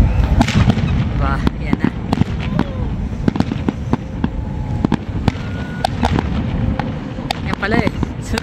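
Loud outdoor fireworks display in Canada: rapid, continuous bangs, crackles and pops layered over one another, with people talking and reacting throughout.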